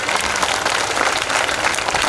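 Dense, continuous applause from an audience at an outdoor public meeting with a state minister, a steady wash of many hands clapping at even loudness throughout.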